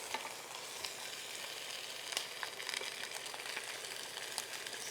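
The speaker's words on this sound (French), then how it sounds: "On va prendre le temps de tourner notre viande." Pork meatballs frying in a pot for a pig's trotter stew, a steady close sizzle with scattered crackles and pops as the meat is turned, no voices.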